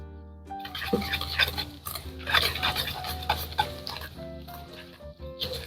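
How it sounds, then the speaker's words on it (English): Clinking, scraping strokes of a whisk against a bowl of butter, sugar and cocoa, irregular and fairly quiet, with wind noise in the background. "So let's do some whisking."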